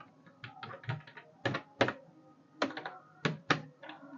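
Numbers typed on a computer keyboard in irregular bursts of crisp, close key clicks and thunks, with short pauses between groups.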